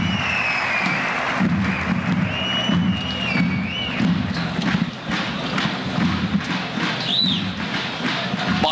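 A crowd at a Turkish oil wrestling league match applauds the head wrestlers, steady dense clapping throughout, with a loudspeaker announcer's voice and whistle-like tones over the top.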